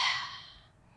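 A deep inhale during a Pilates-style exercise class, taken lying supine on a mat before a pelvic curl: one close breath with an airy hiss that is strongest at the start and fades over about a second.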